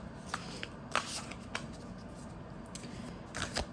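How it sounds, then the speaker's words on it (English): A tarot card deck is shuffled by hand at close range, giving soft sliding rustles broken by several brief, sharper card snaps over nearly four seconds, with no talk. "I'll just shuffle some guidance for you"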